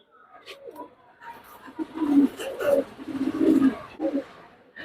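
Pigeons in a loft housing Teddy, Kamagar and racer breeds coo in a cluster of soft, throaty, repeated calls that overlap at close range, growing fuller midway through.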